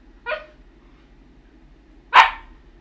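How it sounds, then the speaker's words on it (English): A dog gives two separate sharp barks, the second louder and fuller, close by in an otherwise quiet room with a faint low hum. "Don't bark at me."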